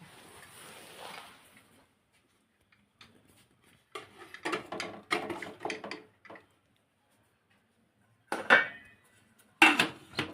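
Metal lid of a pressure cooker clanks and scrapes as it is twisted open after steaming dumplings, a few sharp metallic knocks with pauses between, close by.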